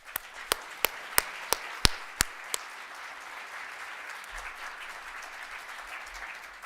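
Audience applause welcoming speaker Dr. George Friedman at a Chicago lecture: a string of about eight sharp, evenly spaced claps up front, then a steady, softer wash of crowd noise.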